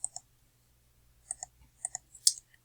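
Computer keyboard typing in short bursts of crisp clicks, a couple of keystrokes at a time separated by pauses, close and clear in a quiet room with no talk.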